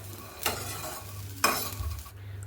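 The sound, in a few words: peanuts, coconut and soybeans roasting in oil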